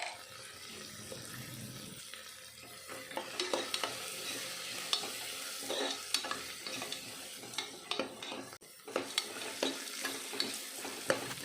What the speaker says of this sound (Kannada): ಅರಶಿನ ಪುಡಿ ಹಾಕಿ ಸ್ವಲ್ಪ ಎಣ್ಣೆಲಿ ಫ್ರೈ ಮಾಡಿದ ನಂತರ ನಾವು ಸಣ್ಣದಾಗಿ ಹೆಚ್ಚಿಟ್ಕೊಂಡಿರೋ ಪುದೀನ ಸೊಪ್ಪು, ಕೊತ್ತಂಬರಿ ಸೊಪ್ಪನ್ನ ಹಾಕಿ ಫ್ರೈ ಮಾಡ್ಕೊಬೇಕಾಗುತ್ತೆ ಎಣ್ಣೆಲಿ